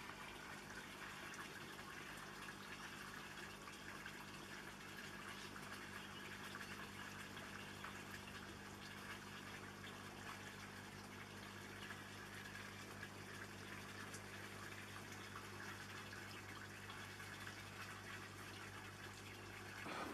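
Water steadily drains through a hose into the sump tank of a backyard aquaponics system holding silver perch, a constant even gush and trickle running unbroken throughout with no talking.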